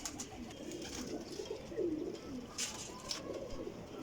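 Paired pigeons cooing in a loft, soft rolling coos repeated a few times at close range over a low background hum, with faint chirps now and then.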